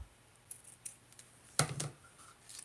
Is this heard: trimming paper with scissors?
yes